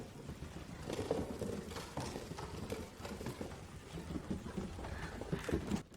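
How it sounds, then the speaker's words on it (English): Ambient water in a competitive first-person shooter match, faint irregular sloshing and splashing taps that resemble footsteps, quiet and scattered over a low background hum. "the water sounds like footsteps, and you're not sure"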